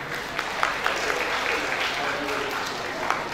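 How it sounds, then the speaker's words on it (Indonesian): Audience clapping fills a school graduation and year-end ceremony for Islamic elementary pupils, a steady, dense round of applause with a voice faintly over it. "Kita berikan aplaus pada Ustadz Ja'far ya."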